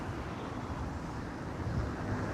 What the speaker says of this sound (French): Finalement, ah, du vent.